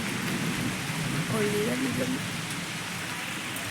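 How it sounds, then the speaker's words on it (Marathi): Steady rain hisses over a low background rumble of thunder, with a brief voice rising partway through. "कसा गरजतो पाऊस"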